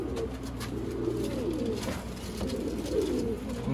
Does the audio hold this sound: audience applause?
no